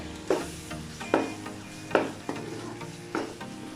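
Garam masala stirred into simmering keema matar, a minced-meat and pea curry, with a spoon scraping the pan in regular strokes about once a second over a steady close sizzle, no voices.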